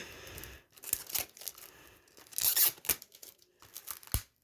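Plastic wrapping on a CD being torn open by hand: a series of sharp rips, crinkles and crunches in irregular bursts, close to the listener with short quiet gaps between.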